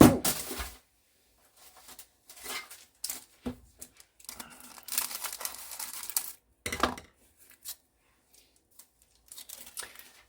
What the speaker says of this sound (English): it's a wrapper. We need the scissors to open this one